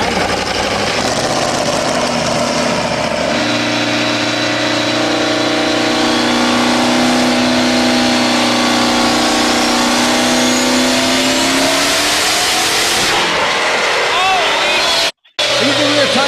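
A car strapped to a dyno roars under sustained load, its engine note climbing steadily in pitch and staying loud throughout before cutting off abruptly near the end, with people talking over it.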